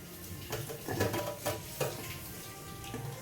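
Cumin seeds crackle in a kadai during tempering, a faint, steady sizzle broken by light metallic clinks and stirring taps over a few seconds, with no talking.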